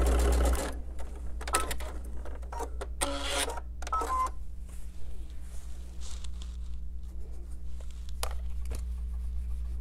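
A sewing machine in a quilt studio stitches in quick rattling bursts and longer runs, close by over a low steady hum, with no voices.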